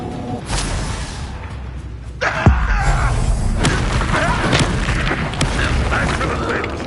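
A Confringo blasting spell detonates in a Harry Potter-style video game, a single heavy boom with a whooshing burst over a dense, noisy battle bed, while voices call out around it.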